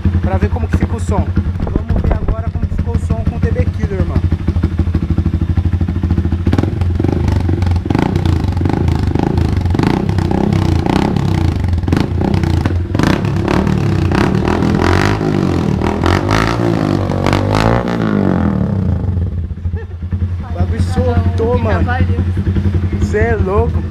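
A 160cc motorcycle fitted with a 600cc exhaust and a dB killer revs repeatedly, rising and falling in loud throaty bursts over a rumbling idle, with voices talking over it.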